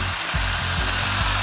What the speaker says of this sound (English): The chainsaw does do really good work on the smaller branches.